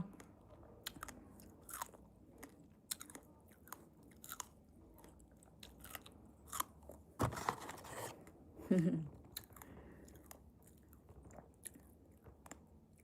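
Fresh homegrown strawberries are bitten and chewed up close in a stream of quiet, irregular crunchy and squishy bites, with a couple of louder bites midway and faint background voices.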